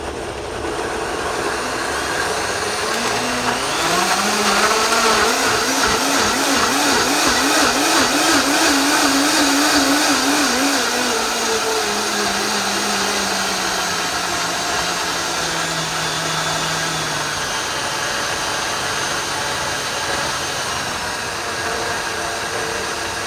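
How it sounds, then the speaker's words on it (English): A high-speed blender roars steadily as it purees onions and peppers with a cup of water into a smooth sofrito paste, its pitch rising and wavering as the load breaks down, loud and continuous with no talk. "I have a high-speed blender here"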